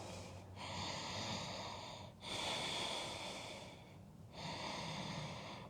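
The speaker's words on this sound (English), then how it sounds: "Breathing all the way down into the hips." Deep, slow breathing during a Forrest Yoga session, three long breaths with brief pauses between them, close and fairly soft, with no talking.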